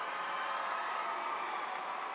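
Audience applause and cheering fill a graduation ceremony hall at Hampton High School, a steady dense wash of many hands clapping throughout, moderately distant with no talk over it.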